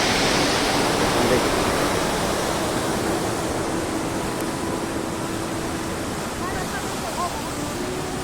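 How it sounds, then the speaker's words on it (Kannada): A waterfall in Uttarakhand on the Kedarnath route roars with a loud, continuous rush of falling water, close by and unbroken throughout. "ಪಕ್ಕದಲ್ಲಿ ಒಂದು ಜಲಪಾತ ನೋಡಿ"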